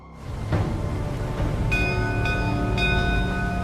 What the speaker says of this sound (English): 3 bells pierce the night